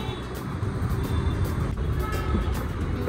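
A car arrives and rumbles close by with a steady low engine drone, and a brief horn toot is faintly audible over the continuous traffic noise.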